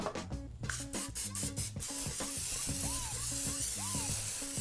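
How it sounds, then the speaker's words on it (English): An aerosol can of cooking spray hisses in a few short bursts into a bundt pan, then a longer continuous spray, with some background music playing underneath. "we're going to spray it with some cooking spray"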